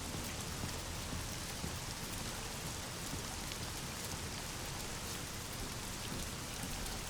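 Steady rain falls on surfaces, a soft continuous patter of drops at an even, moderate level with no voices.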